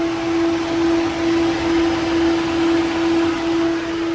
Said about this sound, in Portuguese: o ventilador do radiador acabou de acionar aqui pela 4ª vez